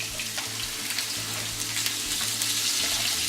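Onions and peppers for ribeye fajitas sizzle steadily in a hot pan, a dense, even crackling hiss that carries on without a break, close up and moderately loud, with no voices.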